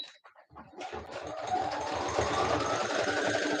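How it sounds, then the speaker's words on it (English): Sewing machine stitching through a thick spot in costume fabric, starting with a few hesitant catches then running into a steady, fast mechanical whir, close and alone. "everybody's sewing machine gets stuck on the thick spots when you are trying to go"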